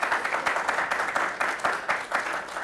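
Seminar audience applauding, a steady patter of many hands clapping at moderate distance, fairly soft and even across the whole stretch.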